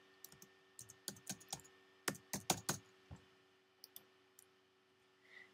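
Keys on a computer keyboard are typed in an irregular run of sharp, close clicks, bunched into quick bursts with short pauses between, in a quiet room with no talking.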